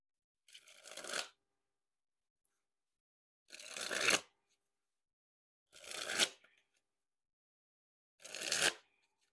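A deck of Bicycle Trojan War playing cards is riffle shuffled four times, each a crisp, rapid fluttering burst lasting under a second, separated by near silence, close and clear.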